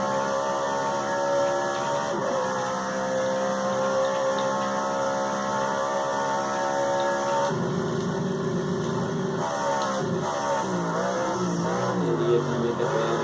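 A turbocharged car engine roars on a race track as it accelerates hard. The loud, continuous drone rises and shifts in pitch through gear changes, with no talking.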